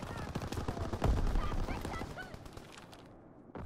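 Dense video-game battle gunfire, with steady automatic fire and thumping shots layered over one another, some voices mixed in, fairly faint and continuous before the sound drops away near the end.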